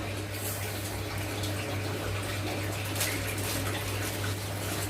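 Rice being washed under running water from a tap, a steady close hiss and splash of flowing water with a low constant hum underneath, continuing without pause.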